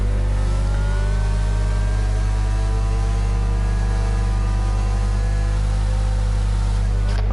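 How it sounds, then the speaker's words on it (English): A Mercedes race car engine drones and revs loudly and steadily at a Saudi Arabia race, its high whine rising slowly in pitch over a heavy low rumble. "I'm getting a headache because of that sound of the Mercedes."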